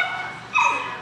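Dogs, including a young Morkie puppy, give a short high whimper that rises into a yip, close and fairly loud, within about a second, with no talking over it.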